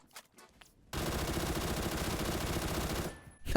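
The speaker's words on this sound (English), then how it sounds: "Bro dared to shoot at me." Sustained rapid gunfire in a video game, an enemy shooting at the player, bursting in loud after a quiet start and running continuously for about two seconds before cutting off.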